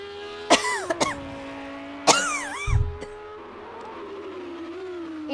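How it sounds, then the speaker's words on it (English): A few sharp, harsh coughs, close and fairly loud, come in short bursts over a steady racing-car engine drone from a Project CARS 2 GT3 race commentary. "Yeah, another coughing fit."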